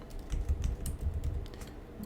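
Steady clatter of keystrokes on a computer keyboard as code is typed, close and fairly quiet, with irregular clicks running throughout and no voices.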